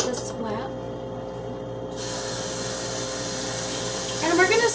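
Water sprayed to clean in a home kitchen while a spaghetti meal is made, a steady hissing spray that starts abruptly and runs continuously, close and fairly loud, with faint speech before and after.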